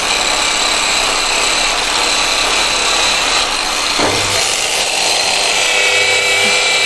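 Power tool polishing a stainless steel tube with compound at a low 2000 RPM, a steady loud whirring grind running continuously, with a brief shift in tone partway through as pressure changes.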